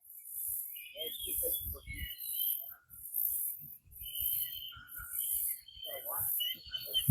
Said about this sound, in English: I'm guessing it's some sort of bird, maybe a vulture or something.